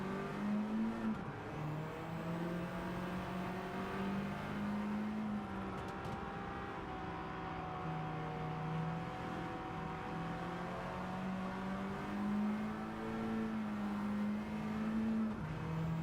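Continuous race car engine drone in a racing video game, its pitch rising and falling steadily with gear changes and revs, loud and alone without talk throughout.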